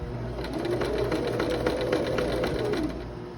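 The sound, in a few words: sewing machine stitching over dress gathers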